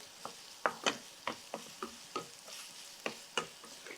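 Carrot and mixed vegetables are stirred and sautéed in a pan, a spatula scraping in quick, uneven strokes, close and fairly soft, with a faint sizzle underneath and no voices.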